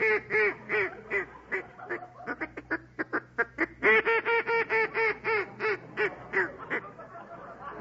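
A hand-blown duck call squawks a rapid, rhythmic run of nasal quacks in short bursts with brief pauses, loud and close, in a studio setting on a television game show.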